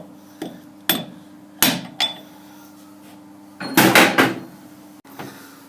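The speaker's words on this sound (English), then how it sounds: "So I'll just tap it back the other way and we'll pull that circlip out." Sharp metallic taps strike a lathe headstock shaft to free a circlip: several single knocks at irregular intervals, then a quick cluster of heavier blows, close and loud with no talking.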